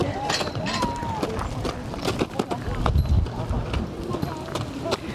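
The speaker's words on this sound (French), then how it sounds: "Là, c'est un cheval qui est très peu manipulé, voire presque sauvage." Hooves of horses during liberty work with two horses, one barely handled and almost wild: irregular clip-clop and thudding footfalls on the ground, moderately close, with someone talking over them throughout.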